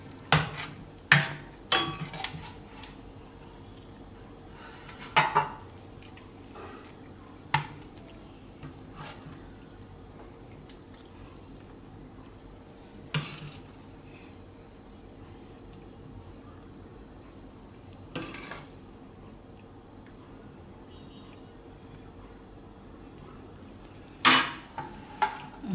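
Jain pav bhaji being served onto a plate, with scattered sharp clinks and scrapes of a spoon and utensils against dishware, spaced irregularly with quiet gaps in between.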